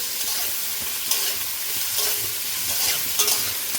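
Vegetables frying with salt in a pan, a dense close sizzle with a few soft stirring scrapes, no voices.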